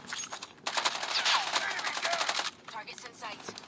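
Rapid automatic fire from an AS VAL assault rifle in a video game rattles loudly in one sustained burst of nearly two seconds, with quieter game noise before and after.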